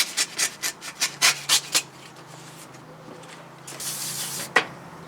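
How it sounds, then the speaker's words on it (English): Wet sanding painted metal on a Triumph motorcycle bash plate with 320 grit sandpaper: a rhythmic run of close, scratchy strokes, then a softer continuous rubbing hiss with one sharp swipe near the end. "switch to a 320 now. Just gives me a finer finish for the next coat of paint"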